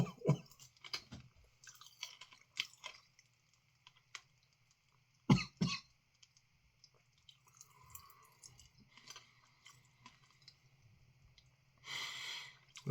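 Close chewing of Inferno Candy Co Hot Rocks hard candy, sporadic crunches and mouth noises with a couple of louder bursts and a cough-like sound near the end.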